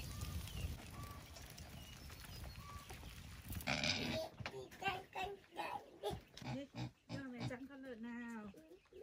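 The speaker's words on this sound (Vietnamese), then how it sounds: "Cho con lợn ăn, con lợn đói rồi." Pig grunting and snuffling while hungry and waiting to be fed, close by on a rural farm, with short irregular grunts and squeals mixed with clatter and people talking over it.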